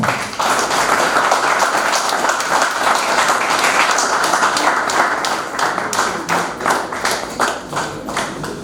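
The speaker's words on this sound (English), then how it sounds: "Can we have a big round of applause for this?" A large audience claps at a talk on technology and society, loud and dense at first, then thinning toward the end into more distinct individual claps.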